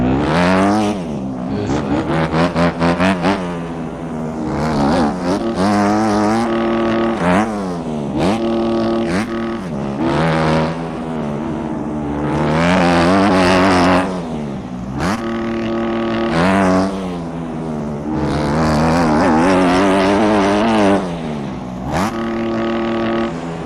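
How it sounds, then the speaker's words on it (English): A car engine with a cracked muffler revs up and down repeatedly, its raspy exhaust note rising and falling in long swells, loud and close throughout. "Fucking mufflers cracked or some shit"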